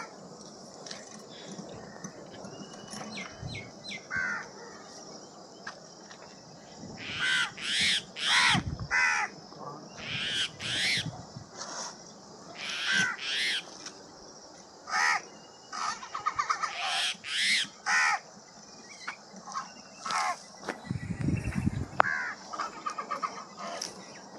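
Crows caw repeatedly outdoors near a Jersey dairy cow, loud harsh calls in irregular bursts over a steady background hiss, with a louder cluster toward the end.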